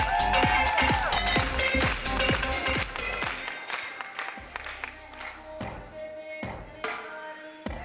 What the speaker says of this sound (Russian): Аплодисменты всем, друзья!